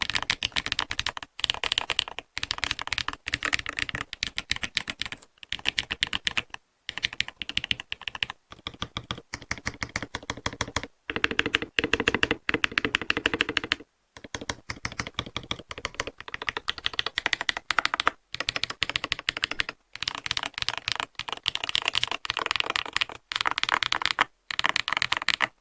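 Steady, fast typing on a magnetic-switch mechanical keyboard with silky switches, a dense run of close, crisp keystrokes broken by brief pauses, with no voices.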